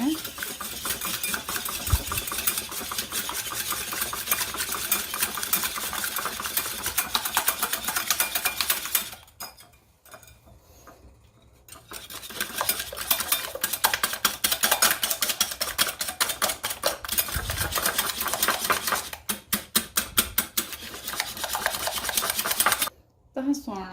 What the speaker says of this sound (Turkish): Güzelce bir çırpıcı aletle karıştırıyorum şöyle.